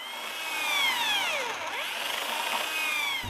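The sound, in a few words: drill drilling latch hole in interior door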